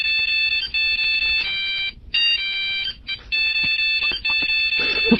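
A phone ringtone plays a tune, a loud, bright electronic melody of repeated tones with brief gaps between phrases and no talk over it.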